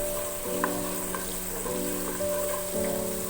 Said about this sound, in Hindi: थोड़ा सा भून लेंगे इसको। लहसुन अदरक को मैंने थोड़ा सा भून दिया है।